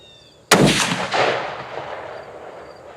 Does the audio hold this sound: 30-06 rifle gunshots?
yes